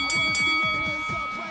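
A boxing gym round bell rings twice in quick succession, bright and close, with a sustained metallic ring trailing off during a heavy bag workout.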